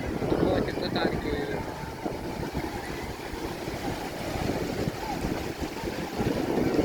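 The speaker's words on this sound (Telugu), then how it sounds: "ఇది మచిలీపట్నంలో మంగినపిడి బీచ్ రా" Waves wash onto Manginapudi beach in Machilipatnam, a steady broadband surf roar with wind noise, while people talk nearby over it.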